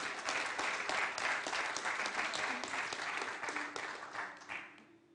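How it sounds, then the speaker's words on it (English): Audience at a conference breakout session applauds a presenter, a dense burst of clapping that holds steady and then tapers off over about five seconds, heard at moderate distance. "please big applause, give applause to our presenter"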